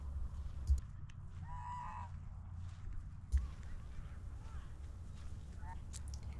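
Wild geese honk at a lakeside in a park, a few short nasal calls standing out faintly over a steady outdoor rumble, with a voice speaking softly in the background.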